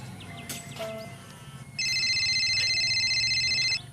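Telephone ringing in a village office, an electronic ring with a loud warbling tone that starts partway in and repeats steadily for about two seconds after some faint background clatter.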